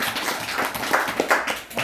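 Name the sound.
congregation applauding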